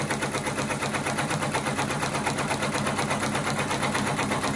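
An embroidery machine stitches 3D puff embroidery onto a hat, its needle running in a fast, even mechanical rhythm that stays loud and continuous throughout.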